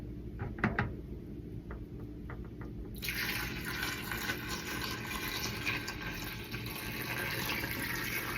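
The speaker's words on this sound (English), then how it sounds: "I'm gonna pour very slowly." Liquid is poured slowly during cold process soap making with Earl Grey tea, a few faint drips and clinks giving way to a steady, soft trickling stream that carries on to the end.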